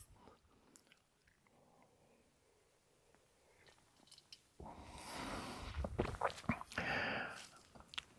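Oatcakes and cheese eaten at breakfast inside a tent in the sunshine, a quiet stretch then close, loud crunching bites and chewing over the last few seconds.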